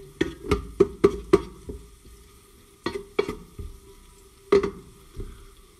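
Onion and guanciale sauce sizzles in a pan while being stirred, with sharp scraping stir strokes in bursts over a quiet frying hiss, close by and with no talk.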